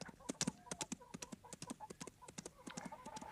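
Rapid clip-clop of galloping horse hooves in a western film, a fast, steady run of sharp thuds close and fairly quiet, with no talk over it.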